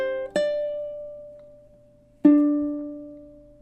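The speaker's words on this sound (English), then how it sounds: "So 15 sounds something like this." Two ukulele chord strums spaced about two seconds apart, each ringing out and slowly fading, from measure 15 of a Christmas song, played alone with no talking.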